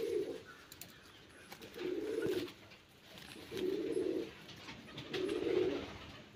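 Pigeons in a loft coo in four low, rounded calls spaced evenly about a second and a half apart, close by with faint background noise and no talking.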